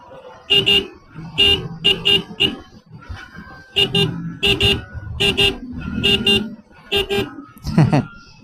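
A faulty car horn honks over and over in short, uneven bursts, loud and nearby, with highway road noise underneath.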